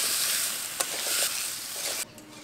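Cut elephant foot yam and potato are stirred in a pan with onion, ginger and garlic, giving a close, continuous frying sizzle with a couple of soft stirring knocks before it abruptly drops away.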